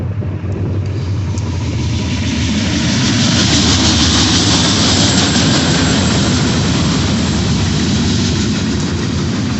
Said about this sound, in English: That's the damn freight train.